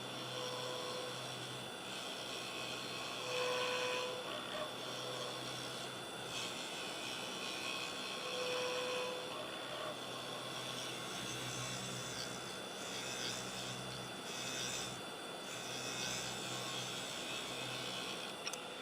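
Wood lathe spinning a cocobolo pen blank while a tapering cut is made, a steady broadband whir and hiss with faint tonal lines, fairly quiet and continuous with small swells as the tool bites, no voices.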